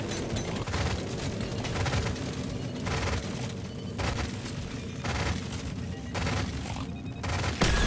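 Rapid, continuous bursts of gunfire in the video game Deep Rock Galactic Survivor, loud and relentless, with short volleys running into one another and no pause.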